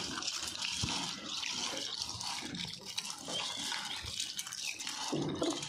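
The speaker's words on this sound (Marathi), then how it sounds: "आता याच्यामध्ये पाणी घालून स्वच्छ धुवून घेते" Chana dal being washed by hand in a bowl of water at home, a soft, steady swishing and sloshing with faint drips, close by and continuous without any talking.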